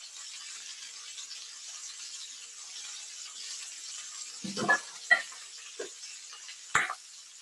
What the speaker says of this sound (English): There's nothing like a sizzle, right?